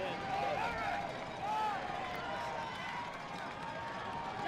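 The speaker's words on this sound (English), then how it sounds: "Homecoming crowd making some noise." A homecoming crowd at a college football game, UMass Dartmouth against Worcester State, keeps up a loud, continuous roar and cheer, with a commentator talking over it.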